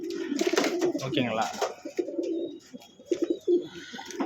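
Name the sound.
pigeons cooing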